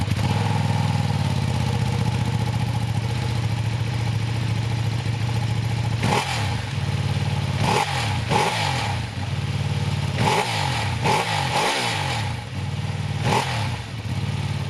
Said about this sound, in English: Press the ignition and you get the familiar sounding Ducati twin.